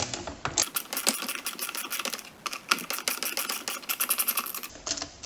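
A socket wrench on a long 10-inch extension loosening a 10mm bolt behind the headlight of a Volkswagen Golf Mk4, a rapid close ratcheting clicking in steady bursts.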